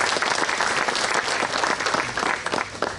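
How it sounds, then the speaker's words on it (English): A crowd claps loudly and steadily at a Jadotville memorial ceremony, dense applause filling the space throughout. "give yourselves a big round of applause for the great pride you have in the area"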